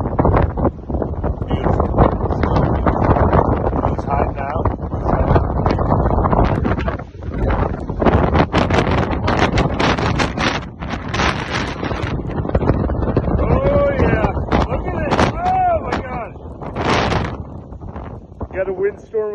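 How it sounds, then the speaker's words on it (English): Windstorm roaring through timber on a snowy mountain at about 6,000 feet, with steady loud gusts buffeting the microphone and rustling trees throughout, and a voice speaking over it near the end. "Got a windstorm up here"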